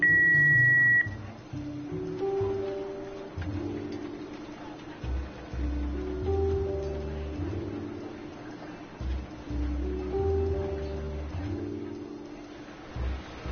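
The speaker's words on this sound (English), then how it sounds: "Please leave a message at the beep" An answering machine beep from a Jackbox party video game sounds as one clear, steady electronic tone lasting about a second at the start. A soft, melodic game soundtrack with low thumps follows.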